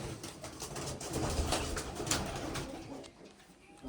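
Pigeons coo softly in a series of low, throaty calls, fairly quiet with light background noise and no talking.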